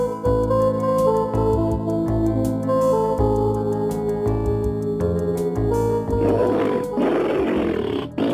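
An animated cartoon tiger roaring at a festival screening of short films, a rough, noisy roar rising near the end over sustained tonal background sounds.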